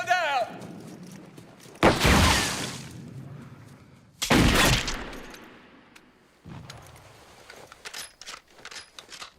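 Rifle volleys from a World War I film soundtrack, two loud broadband blasts a couple of seconds apart followed by fainter crackling shots, with a shouted voice at the start.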